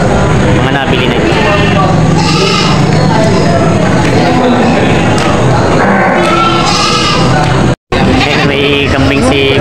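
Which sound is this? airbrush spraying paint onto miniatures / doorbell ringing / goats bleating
goats bleating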